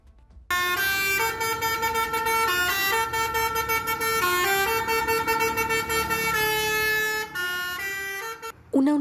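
A modified, shrill horn on an intercity bus blaring a children's song, loud sustained tonal notes following the melody in a steady rhythm with short breaks, close and dominant throughout.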